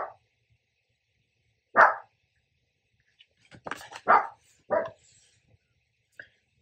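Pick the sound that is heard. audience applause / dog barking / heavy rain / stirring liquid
dog barking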